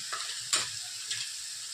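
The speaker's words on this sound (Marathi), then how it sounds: "छान भाजले, तेल सुटले मसाले" Spices roasting in oil in a pan, with a constant low sizzle broken by a few quick scraping stirs, one of them louder, and no talking.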